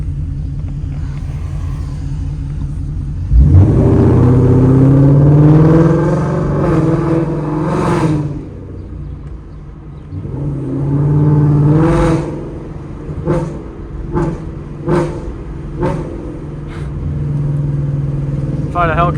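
A Ford Mustang GT 5.0 with straight-piped exhaust and a burble tune revs hard from inside the car, a deep roaring rumble echoing off nearby buildings, followed by a second rev and a string of sharp crackling pops, with a voice speaking in places.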